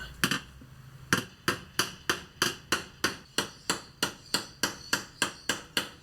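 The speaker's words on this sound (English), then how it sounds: "give it a bit of a tappy tap with a hammer" A steady run of sharp metallic hammer taps on metal bracket tabs inside a van, about two per second, close and even, ringing briefly after each strike with no talking.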